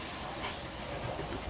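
Water hissing and steaming in a hot cooking pan, a steady broadband sizzle-hiss that fills the short stretch without a break, fairly loud and close with no voices over it.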